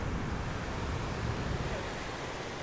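Sea with a strong current on a black sand beach in Bali, a steady washing roar of surf at moderate level, continuous over a few seconds with a breathy, wind-buffeted edge.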